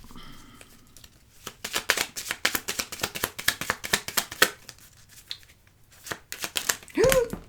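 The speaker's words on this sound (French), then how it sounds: "Ensuite, on va mélanger le petit Lenormand." A Petit Lenormand card deck is shuffled in quick riffling bursts, a close run of crisp flicking strokes that pauses briefly and then resumes, with a voice speaking at the start and end.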